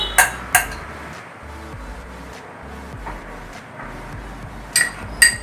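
Gram flour going into a bowl while a utensil taps and clinks against the dish in a few sharp knocks at the start and end, with a low steady hum between and no speech.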